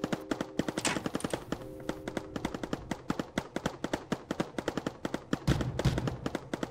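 A turret in the tower-defence game Mindustry fires a rapid, steady string of sharp shots, dozens of evenly spaced cracks running close and clear for several seconds with low rumbling underneath.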